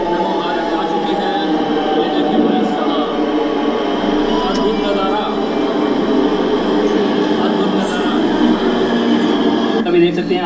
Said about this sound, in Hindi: अपनी जो फर्स्ट रिटर्न ट्रेन नमो भारत आ चुकी है।